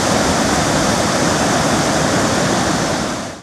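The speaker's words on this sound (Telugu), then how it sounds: "ఇక కరీంనగర్ పట్టణంలో వర్షం దంచికొట్టింది" Heavy downpour with rushing flood water in the town of Karimnagar, a dense, loud, continuous roar of water that stays steady throughout before cutting off abruptly, with no voices.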